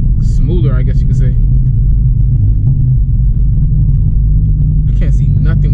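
A 9th generation Honda Civic Si cruising on the street after tuning, its low engine and road rumble droning steadily throughout, close and loud, with brief voices at the start and end.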